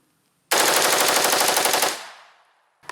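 AK-variant rifle firing a rapid fully automatic burst lasting about a second and a half, loud and close, with dense evenly spaced reports that ring out into a decaying echo before a single short knock.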